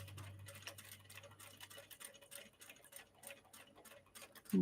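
Sewing machine stitching a fabric knot bag, steady rapid mechanical ticking of the needle close up and fairly quiet, with a low motor hum fading early on.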